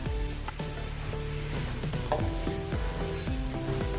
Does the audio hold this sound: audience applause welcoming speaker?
no